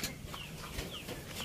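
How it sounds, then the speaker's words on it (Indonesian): Indio Gigante chicken clucking in short, scattered calls against a steady farmyard background, fairly faint and close by. "Ayamnya"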